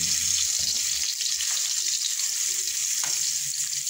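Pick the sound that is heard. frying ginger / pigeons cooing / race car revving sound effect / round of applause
frying ginger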